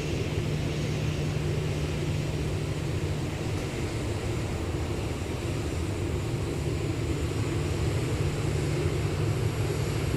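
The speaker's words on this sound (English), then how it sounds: "We have a takeoff here. Vietjet Flight 977 going to Phu Quoc. It is an Airbus A320." A Vietjet Airbus A320 taking off at Incheon Airport, heard as a steady, distant jet engine roar with a low sustained hum that holds even for the whole stretch, no voices.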